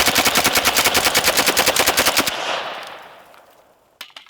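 A PPS-43 submachine gun fires a rapid burst of about twenty close, loud shots into a watermelon, followed by a fading echo and a couple of faint clicks.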